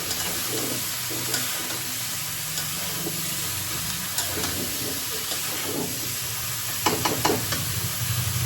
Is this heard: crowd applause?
no